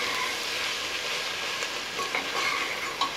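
Chopped onions sauté in a hot pan for a mutton curry, giving a steady, close, even sizzle with a few faint stirring scrapes and no voices.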